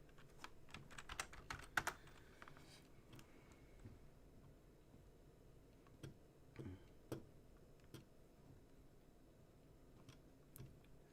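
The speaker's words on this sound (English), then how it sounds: "Here, I'll type it in there." Sparse bursts of computer keyboard typing during a live day-trading stream, quiet, close clicks clustered early and then scattered keystrokes over a low background hum.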